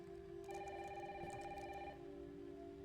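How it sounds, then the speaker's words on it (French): Telephone ringing inside a house in the survival horror game Resident Evil Requiem, a quiet electronic ring that chimes steadily for about a second and a half over a low indoor hum, with no one talking. "Maman, téléphone."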